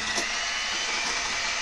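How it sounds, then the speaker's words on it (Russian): Electric hand mixer whisking eggs into foam in a deep bowl while sugar is gradually added, a steady close whirring motor drone with no talk. "разбиваем яйца в глубокую мисочку и включаем миксер. Взбиваем в пенку"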